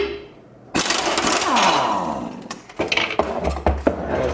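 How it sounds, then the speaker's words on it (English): A loud, close impact wrench starts suddenly and rattles hard for about two seconds to loosen the blade nut on a Lawn-Boy mower with an F engine, followed by rapid clattering bursts. "I'm using my impact wrench because I'm short on time and it makes it quicker"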